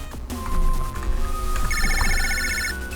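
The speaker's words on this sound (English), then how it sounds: "And a phone call." A phone-call ringtone chimes in the Mega Man Battle Network 2 video game, bright repeating electronic trills over the game's background music.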